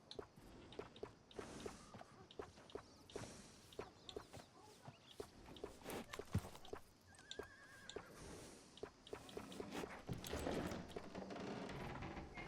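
A horse in Red Dead Redemption 2 clip-clops along with repeated hoof thuds and lets out a whinny, while chickens cluck nearby, all fairly quiet.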